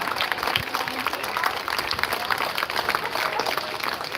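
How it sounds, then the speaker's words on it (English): Crowd at an outdoor freedom rally in Port Credit Memorial Park, Mississauga, clapping and cheering in a dense, steady wash of applause that fills the whole stretch. "give yourselves a round of applause"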